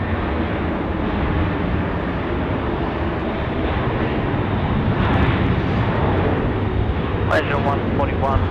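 A Malaysia Airlines jet on final approach to land at Sydney Airport, a loud steady engine roar filling the scene throughout, with a short radio-like voice burst near the end.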